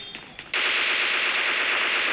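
Rapid, continuous automatic gunfire in the mobile battle royale game PUBG Mobile, loud and sustained, opening abruptly after half a second of quieter game ambience.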